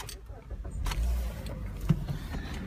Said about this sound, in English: So we'll start the car up.